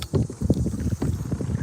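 Wind gusting over a kayak and its microphone, a close, rough buffeting rumble with uneven low thumps, alone without voices.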